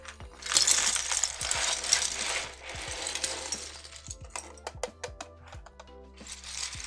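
Sharp plastic clicks and snaps from keycaps being pushed onto a mechanical keyboard fitted with orange switches, including a novelty enter key and a 7U spacebar, arriving in an irregular run of close taps over a hissy background.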